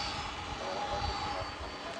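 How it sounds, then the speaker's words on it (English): An American Airlines Boeing 777-300ER jet arrives at Dallas Fort Worth airport, heard as a steady, loud engine roar with a broad rushing hiss that holds throughout at close range. "Very nice 777 coming in."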